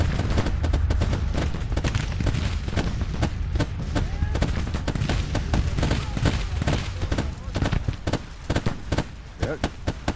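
Williams guns and massed musket fire in the Civil War strategy game Grand Tactician, a dense continuous fusillade of overlapping shots and booms, loud and unbroken throughout.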